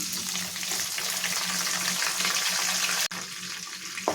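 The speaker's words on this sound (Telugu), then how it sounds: "దీనిలో ముందుగా కట్ చేసి పెట్టుకున్న ఉల్లిపాయ ముక్కలు అలాగే కరివేపాకు వేసేస్తున్నాను" Steady, loud sizzling of chopped onion and curry leaves frying in hot oil, a continuous hiss with a brief clatter near the end, no speech.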